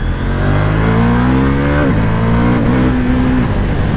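A 2023 KTM 790 Duke motorcycle accelerates hard close by, its engine note climbing before a quick shifter upshift drops the pitch, then it pulls and rises again, loud and continuous.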